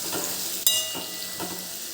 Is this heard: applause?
no